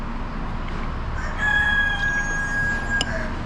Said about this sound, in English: You can hear the roosters out here.